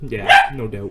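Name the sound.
dogs barking in basement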